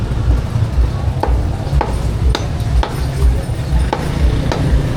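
Cleaver chopping meat for adobo at a busy market stall: about seven irregular, sharp chops on a board, spaced roughly half a second apart, over steady crowd and stall noise.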